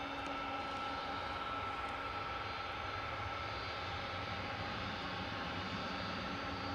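A cargo freighter jet arriving from Sao Paulo at East Midlands Airport at night, heard as a steady, even engine drone that holds unchanged throughout.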